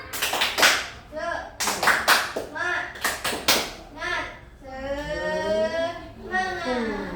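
Children in a classroom for pupils with disabilities clap a quick rhythmic cheer pattern in bursts, loud and close, with young voices chanting and talking between and after the claps.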